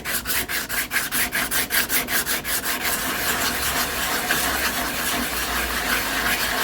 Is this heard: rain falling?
no